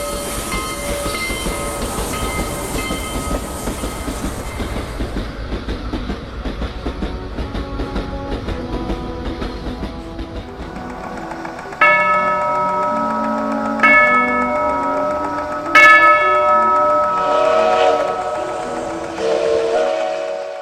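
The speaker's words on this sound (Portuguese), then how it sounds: "eu queria ouvir o sino da locomotiva com toda a perfeição" A train rumbles steadily, then the sharp ringing of a locomotive bell and whistle-like blasts cut in repeatedly over the clatter, loud and close.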